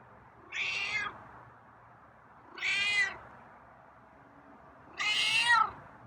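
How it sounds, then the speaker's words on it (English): A feral cat meows three times, evenly spaced, each a clear drawn-out cry against a quiet, steady background hum. "Oh, you got some meows today."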